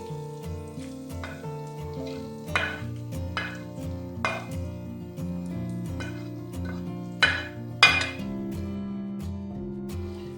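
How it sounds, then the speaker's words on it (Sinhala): A spoon stirring chicken roti filling with green chili and salt in a pan: scattered scrapes and clinks against the pan over background music, with no talking. "දාගෙන ඊට පස්සේ මෙන්න මේ විදිහට කලවම් කරගන්න"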